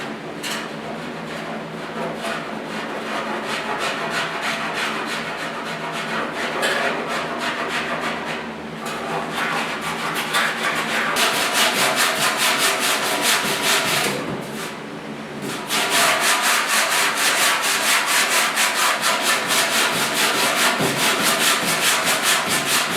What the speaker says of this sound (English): and then I'm just going to hit them with 80 grit.